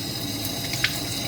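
Warm tap water running over minky fabric being rinsed in a sink, a steady close splashing stream with a brief bright splash near the end, no talking.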